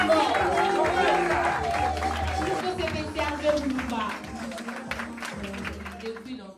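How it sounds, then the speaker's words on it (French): Audience applause at an anniversary ceremony, a steady wash of clapping and crowd noise running throughout the clip, mixed with voices and chatter. "Tous vos applaudissements"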